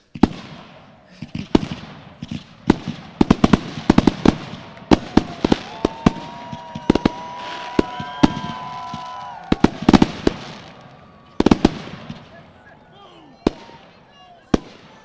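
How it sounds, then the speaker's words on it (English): Fireworks at a high school graduation: rapid loud pops and crackling bursts in irregular clusters, with whistling rockets rising midway and crowd noise and voices underneath. "And deserving of all of those fireworks"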